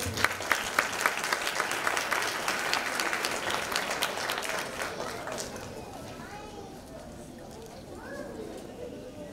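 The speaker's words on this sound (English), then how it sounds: "you deserve another round of applause" Applause from the audience at a school board meeting, opening with a few sharp claps and swelling into steady clapping that fades to softer scattered sound with murmuring voices near the end.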